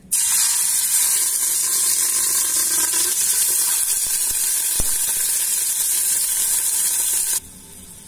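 Meat dropped into hot oil in a pot sizzles loudly with a bright, steady hiss that continues for several seconds, then suddenly drops to a quieter crackle.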